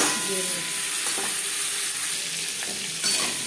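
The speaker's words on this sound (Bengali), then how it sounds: "ফোড়নের আলু আরও তিন চার মিনিট ভেজে নেব" Potato pieces fry in hot oil with a dense, steady sizzle for egg potato curry, loud and close throughout, with occasional stirring scrapes.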